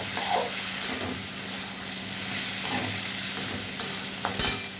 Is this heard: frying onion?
yes